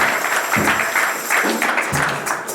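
A church congregation clapping in rhythm, a loud, steady pulse of hand claps repeating about twice a second, with voices mingled underneath.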